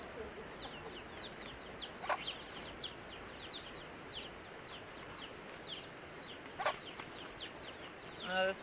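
Chickens and a rooster in Waimea Valley, Haleiwa, Hawaii, keep up a busy stream of high chirping clucks at moderate distance, with a couple of louder sharp calls over the outdoor background.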